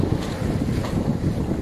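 A sailboat beats upwind in strong wind and swell between Santa Manza and Rocapina, with loud gusting wind buffeting the microphone over a low, constant rush of water against the hull.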